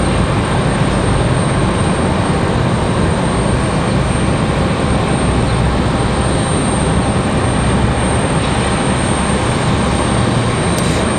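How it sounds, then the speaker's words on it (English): Airbus A320 airliner at Raleigh-Durham airport on a stormy day, a steady broadband roar of jet engines holding loud and close for the whole stretch without letting up. "So it's an A320."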